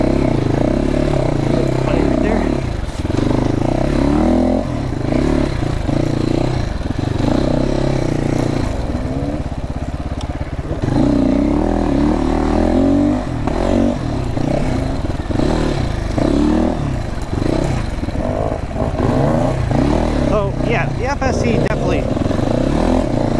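A GPX sport motorcycle engine climbs and drops through its rev range with a steady, close drone and recurring throttle surges, while a rider talks over it throughout.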